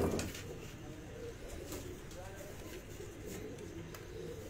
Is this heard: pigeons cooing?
yes